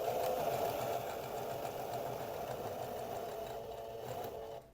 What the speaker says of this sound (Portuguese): cuidando para costurar bem na extremidade, onde está a ponta do meu tecido